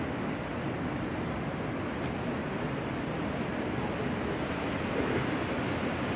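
Steady broadband rush of the Lohit River flowing past a bridge among mountains and tall trees near Parshuram Kund, Arunachal Pradesh, a continuous even roar with no voices.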